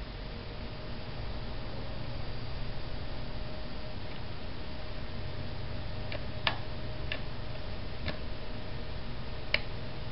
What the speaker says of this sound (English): You back it off gently until you hear a click.